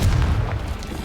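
Bombarda and Confringo blast spells go off in a wizarding video game, a single deep, booming explosion with a heavy low rumble that fades over a second.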